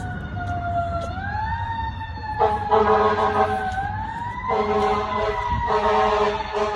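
A fire truck siren wails, rising and falling repeatedly as it passes over a low rumble of traffic, loud and fairly close.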